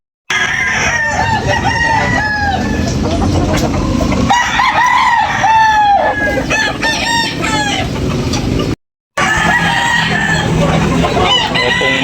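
Many chickens and roosters crowing and clucking at once at a poultry market in Tabunok, a loud continuous chorus with overlapping calls and a brief break near the end.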